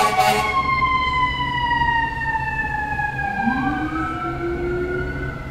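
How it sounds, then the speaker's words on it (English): A fire truck siren wails close and loud on a street in Flatbush, its steady rising and falling tone sliding down in pitch as it passes, with a brief horn blast at the start. "fire trucks."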